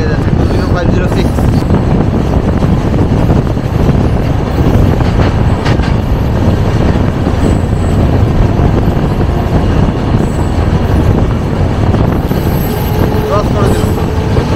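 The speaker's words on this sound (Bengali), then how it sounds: "রাজধানী আস্তে আস্তে নিজের গতিতে আসছে, এবার বোঝা যাবে লোকাল ট্রেন আগে যাচ্ছে না রাজধানী আগে যাচ্ছে" Rajdhani Express train approaching and passing a local train, a loud continuous rumble of rolling wheels and carriages with rhythmic clatter and occasional squeals, close by, with voices talking over it.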